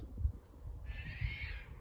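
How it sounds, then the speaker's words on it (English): An unidentified bird calls from up in a tree in a garden, a steady mid-pitched call that starts partway in and holds for about a second over low outdoor rumble. "There's a bird up there making a weird noise."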